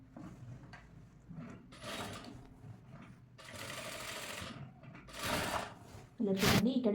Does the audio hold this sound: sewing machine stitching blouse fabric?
yes